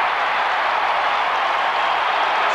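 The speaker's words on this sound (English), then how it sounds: "They cheer in Adelaide and they cheer here at the MCG" Broad, steady roar of a large crowd cheering at the MCG after an Adelaide goal in the 1993 AFL Preliminary Final against Essendon, a continuous wash of sound with no distinct voices.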